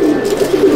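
Pigeon in a pigeon loft giving a close, loud, low cooing call, a steady throaty warble with soft pulsing rhythm filling the short moment.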